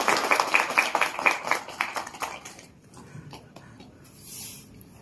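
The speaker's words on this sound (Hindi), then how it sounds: "हर्ष भैया के लिए तालियां भी हो जाएगा" A small group at a devotional gathering claps for Harsh, a short burst of fairly close hand claps that fades after a couple of seconds into quieter background noise.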